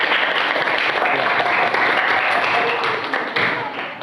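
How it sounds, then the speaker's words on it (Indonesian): A classroom group applauds for a student, a dense, steady burst of clapping that fades slightly toward the end. "Tepuk tangan untuk Mas Arjun."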